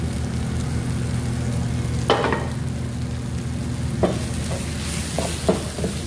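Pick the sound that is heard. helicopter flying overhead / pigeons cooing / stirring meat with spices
stirring meat with spices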